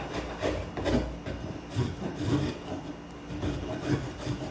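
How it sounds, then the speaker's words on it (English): A spokeshave shapes and rounds over a wooden edge, making repeated rasping, scraping strokes in a steady rhythm, close up with no talking. "this is where I think the Spokeshave does remarkably well, because you can come in, work one side, and then do the other side"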